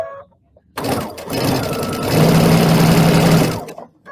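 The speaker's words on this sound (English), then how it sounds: "So now I'm going to sew that on." A sewing machine stitches quilt star pieces for a Christmas star, starting after a brief quiet and running as one continuous, fast, rattling hum for about three seconds before stopping; close and loud, no speech.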